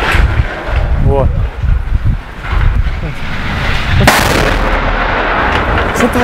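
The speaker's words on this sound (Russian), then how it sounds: "Взлет взрывают." Explosions strike an airfield runway in a war zone, heavy booming blasts rolling through constant wind noise, with a sharp, loud detonation partway through; voices speak faintly underneath.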